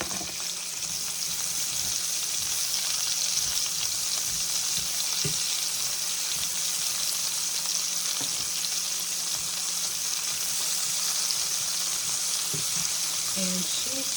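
Sliced onions fry in butter in a sausage pan, giving a faint, steady sizzle with a few small clinks and stirring touches. The sound stays low and even, with no talking.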